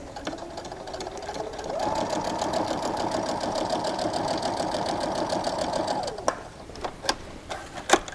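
Sewing machine stitching fabric along a pressed line for a mitered quilt corner: a steady mechanical whirring run of about four seconds, followed by a few sharp clicks and handling sounds.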